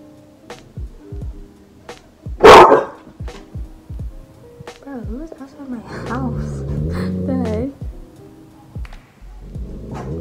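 A dog outside a house barks in sharp, loud bursts spread through the clip, with a person talking over the middle stretch.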